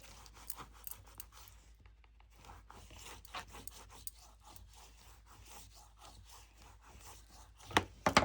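Paper on a handmade folio is burnished with a tool, giving a soft, close rapid rubbing and scraping in quick back-and-forth strokes, faint and continuous for several seconds, ending in a few sharper crinkles.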